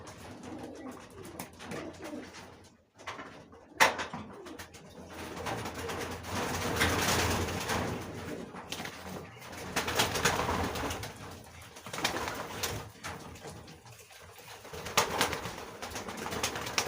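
Pigeons coo repeatedly inside a loft, a steady layered murmur of soft throaty calls close by, with a few louder bursts and brief rustles standing out against the continuous cooing.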